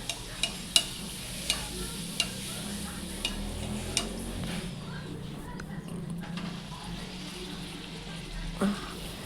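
Puri frying in hot oil on medium heat gives a continuous, close sizzle, with a few sharp regular ticks at the start and a soft knock near the end.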